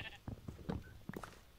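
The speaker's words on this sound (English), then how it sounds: "Sheep, get out of the way." Sheep bleating in a farm-building video game, several short bleats spread across the moment, fairly faint and mixed with low background noise.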